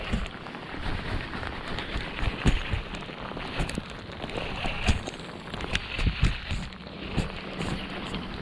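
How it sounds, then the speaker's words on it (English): Rain pours in a heavy, steady wash across the whole clip, with scattered louder drops and spatters standing out, and no voices. "the weather report said it was supposed to be drizzling, not pouring"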